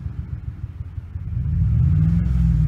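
A Ford 5.4 Triton V8 idles with a misfiring ignition coil, a low uneven rumble close by that grows louder and steadier partway through, with no talk.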